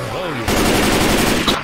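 An assault rifle fires a fast continuous automatic burst in Left 4 Dead 2, loud and close, following a brief moment of voice at the start.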